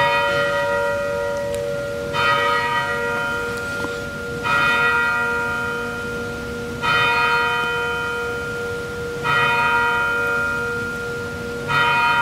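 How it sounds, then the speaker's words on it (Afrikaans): Church bell ringing during a Sunday sermon service, with about five loud, evenly spaced strokes, each a bright ringing tone that sustains and slowly decays into the next, heard alone without talk. "hoeveel keer slaan die klok daar vanmorgen?"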